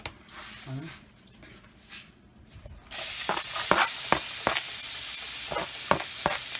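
Food hits a hot pan while making grandma's tomato mac and cheese and a loud, steady sizzle of frying breaks out, with sharp crackles and pops on top, after a quiet stretch of kitchen sounds.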